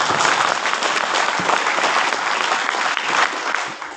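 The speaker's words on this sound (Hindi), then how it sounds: "आप सब लोगों से उनके लिए जोरदार ताली चाहूंगा" Audience at a seminar in Siliguri applauding loudly for an honoured guest, a dense steady wash of many clapping hands held at full strength for several seconds with no talk over it.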